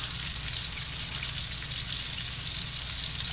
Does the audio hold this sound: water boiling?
yes